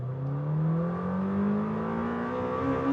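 A Lamborghini Temerario engine revs hard in second gear, its tone climbing smoothly and steadily as the car accelerates on the road, heard from inside with no talking.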